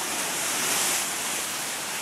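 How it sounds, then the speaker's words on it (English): Ocean waves crash and wash up the shore near an old coastal bunker, a loud, close, continuous roar of surf and spray with wind, no voices. "The perfect wave. This is the splash zone."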